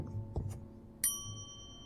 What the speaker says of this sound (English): maybe ring the bell